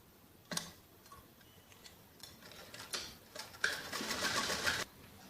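A sewing machine joins the ends of fabric ribbons for a jacket frock, giving a few separate ticking stitches and then one short, steady run near the end, close and otherwise quiet.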